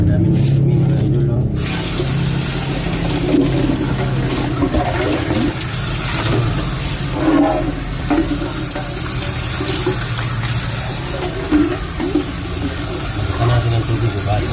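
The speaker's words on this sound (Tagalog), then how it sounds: "palitan lang natin ng tubig yan" Water runs and splashes continuously from a tap while food is washed and its water changed, loud and close, with a person talking over it.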